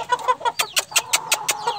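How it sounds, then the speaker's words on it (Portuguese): A chicken clucking close by, a rapid run of about ten sharp, rhythmic clucks in quick succession, alone without talk. "Será que vai dar bom esse franguinho?"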